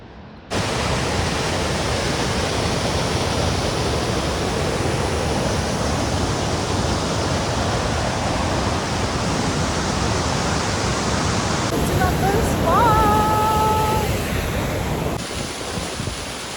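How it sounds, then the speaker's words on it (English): A waterfall roars along a backpacking trail on the Hetch Hetchy loop in Yosemite, a broad continuous rush of falling water, loud and steady throughout, with a brief higher tone briefly appearing near the end. "Ooh, there's my first waterfall."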